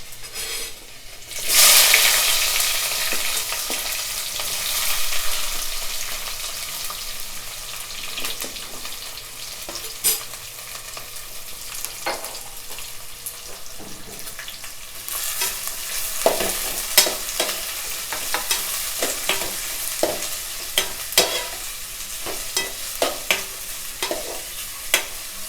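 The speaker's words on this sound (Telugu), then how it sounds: "సో ఆనియన్స్ అనేది కొంచెం తొందరగా ఫ్రై అవ్వడానికి కొంచెం పసుపు, ఉప్పు అనేది వేసుకుందాం." Onions fry in hot oil with turmeric and salt for a Nellore fish curry, a steady close sizzle broken by repeated scraping stirs and clatters that grow busier toward the end.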